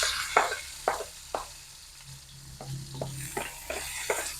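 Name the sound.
sautéing shallots and garlic in a pan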